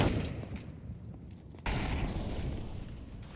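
Mac-10 submachine gun fire in a first-person shooter video game, a dense, loud burst of rapid shots that jumps sharply in volume partway through and continues steadily to the end.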